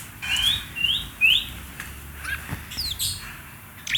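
A murai songbird sings close by in bright rising whistled phrases, three quick repeated notes followed by scattered chirps and a few sharp high calls over a quiet background.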